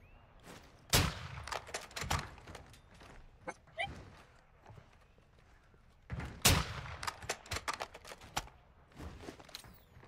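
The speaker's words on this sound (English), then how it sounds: "Did I not hear gunfire over there?" Gunfire in the video game Call of Duty DMZ comes as sharp bursts of shots in two clusters, rapid cracks with scattered single reports between, fairly close and punchy, with no talk.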